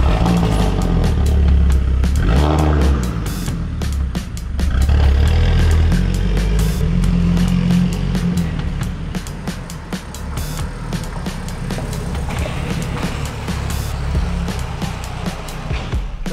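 A 2012 Audi TT-RS drives on an open road, its engine droning loudly and close, swelling under acceleration in a few surges over a constant rush of road and wind noise.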